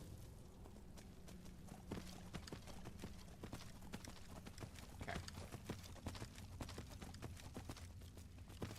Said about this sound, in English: Hell yeah, give me my horse.